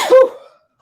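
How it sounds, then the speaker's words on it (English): A single sharp sneeze bursts out close and loud, then trails off quickly into silence. "Hold on, I gotta sneeze."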